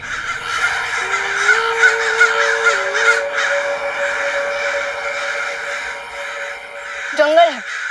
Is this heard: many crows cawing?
yes